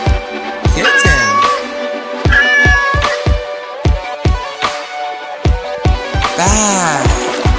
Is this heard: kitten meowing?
yes